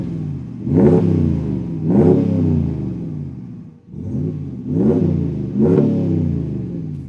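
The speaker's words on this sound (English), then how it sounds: "the Stinger S-Type here from Borla is a nice, deep, rumbling exhaust at idle. It gets more aggressive as you get on the throttle" A 2019+ Ram 1500 with a Borla Stinger S-Type catback exhaust revs five times in close succession, each deep rumbling burst swelling loud and near before easing back between pulls, with no talk over it.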